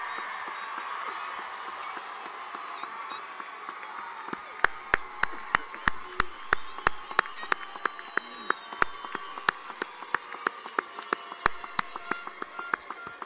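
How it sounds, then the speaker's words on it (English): Applause at a college commencement ceremony: a soft wash of crowd clapping with a run of loud, sharp, evenly spaced handclaps close by standing out above it. "Please give them a round of applause."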